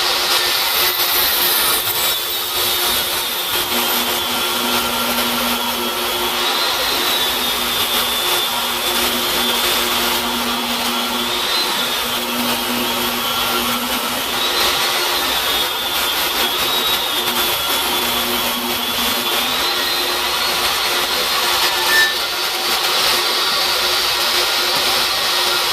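A saw rips lengthwise through a 2-inch thick section of cedar, giving a loud, steady, unbroken cutting roar for the whole stretch with no talking.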